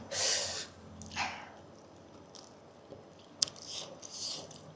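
Close, wet biting and chewing of boiled crab, a few soft crunchy bites with breaths between, fairly quiet with no talking.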